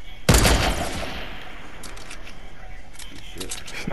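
Sniper rifle shot in Fortnite, one sharp loud crack near the start, then a lingering tail and scattered faint clicks, with a voice speaking over part of it.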